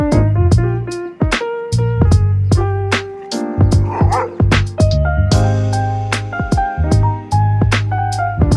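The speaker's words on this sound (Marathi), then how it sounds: "एका हद्दीत फिरताय मोकाट कुत्री." Stray dogs roaming a neighbourhood in Dhule bark and yip repeatedly at close range, loud overlapping barks in irregular bursts with some whimpering between them.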